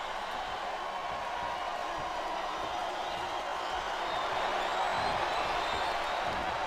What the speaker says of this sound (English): The crowd is getting restless.